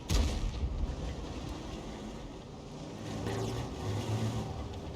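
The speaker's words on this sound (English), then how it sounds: "And the next shot goes in, kills the SU-101, and does some damage to the IS-6 Black" A tank's main gun fires in World of Tanks, with a heavy boom at the start, then a rumbling engine and a second thud of the round striking an SU-101 tank destroyer, all fairly loud with no talk.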